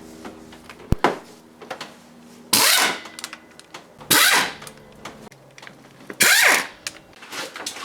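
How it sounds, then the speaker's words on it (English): Ratchet cranking fuel rail mounting bolts loose on a 1999 Pontiac Grand Prix GTP engine during a head gasket job, three close bursts of rapid clicking with light metallic clinks and a sharp knock between them. "So now I'm going to take off the fuel rail mounting bolts."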